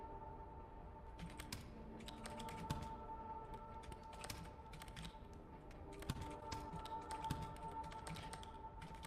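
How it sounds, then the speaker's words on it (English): Slow typing on a computer keyboard in a video game, soft irregular key taps in small bursts over a constant low electronic hum, faint and without talk. "you're typing very slowly while looking down at your keyboard"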